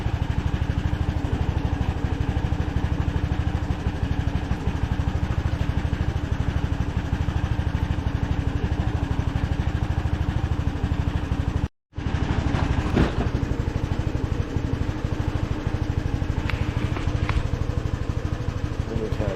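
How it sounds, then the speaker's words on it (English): Honda Helix scooter engine idling as it warms up from cold: a steady low mechanical drone running unbroken near the mic, cut by one brief dropout midway, then resuming with a few faint clicks on top. "I don't want to pull on a cold engine, so we're letting it warm up a minute."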